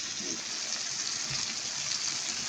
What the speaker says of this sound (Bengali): টমেটোটা হালকা ভাজা হলে অল্প পানি দিব